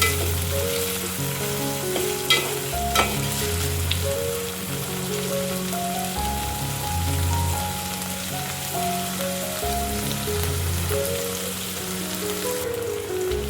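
Tomatoes and onion fry and get stirred together in a pan, a loud steady sizzle with a rain-like crackle and repeated scraping of a utensil, no talking.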